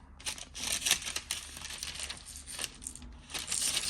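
Parchment paper crinkles and rustles in short, crisp bursts as it is pressed into a Christmas decor tray, close and fairly quiet with no talking.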